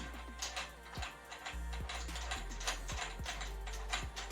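A drum key turning a tension rod while a drum head is changed: a sequence of small, close metallic ticks and ratcheting clicks at uneven intervals, fairly quiet against a low steady hum.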